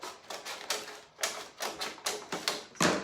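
Snips biting through the top of a galvanized tin sign, a run of rhythmic, crisp metallic cuts in close succession, each one short and sharp, with no speech over them.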